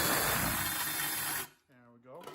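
An electric drill with a freshly tightened chuck runs in a workshop during a lift-frame build for a John Deere X570 mower, giving a steady loud whir for about a second and a half before cutting off, followed by speech.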